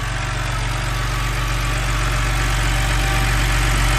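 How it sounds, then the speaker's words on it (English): A BMW with an N52 engine idles steadily at close range, a continuous low rumble with an even mechanical hum and no breaks. "everything is now back together and the engine is running sweet"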